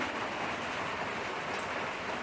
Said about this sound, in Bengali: আকাশে ঝমঝম করে বৃষ্টি পড়া শুরু হয়ে গেছে